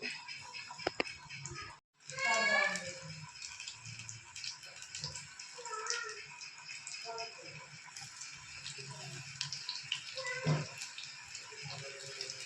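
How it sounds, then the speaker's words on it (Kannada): Onion fritters fry in oil on a low flame, a soft bubbling crackle running continuously at close range, with a few clinks and brief movement noises around it. "ಈ ಥರ ಎಣ್ಣೆಯಲ್ಲಿ ಕಡಿಮೆ ಉರಿ ಮಾಡಿಕೊಂಡು ಈರುಳ್ಳಿ ಎಲ್ಲ ಚೆನ್ನಾಗಿ ಫ್ರೈ ಆಗಬೇಕು"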